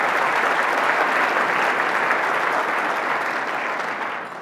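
A crowd at a Portsmouth, Virginia State of the City event gives a grand round of applause for a local businessman: dense, loud, sustained clapping that tapers off slightly at the end.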